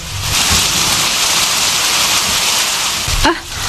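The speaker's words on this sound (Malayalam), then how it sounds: "പണ്ടാരം പിടിച്ച മഴ" Heavy rain pours in a Malayalam radio drama, a loud dense continuous hiss with a short rumble near the end, no dialogue over it.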